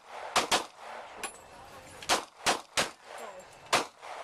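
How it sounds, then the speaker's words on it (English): Handgun shots ring out at an outdoor shooting range: six or seven sharp, loud cracks come in uneven pairs and singles across a few seconds, each with a short metallic ring, with faint talk between them. "Shooting a gun."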